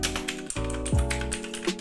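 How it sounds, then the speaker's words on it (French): Amazon Basics gaming keyboard with blue mechanical switches being typed on, giving a dense, loud run of clicky keystrokes close to the mic, with no voice. "Les switches sont bien évidemment bleus, du coup ça fait pas mal de bruit."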